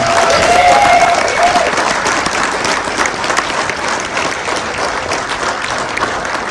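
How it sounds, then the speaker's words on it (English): Loud, sustained audience applause filling the room at a speech in Libby, Montana, dense clapping that starts strong and gradually eases, with faint crowd murmur and a brief whistle. "Please give these folks a round of applause."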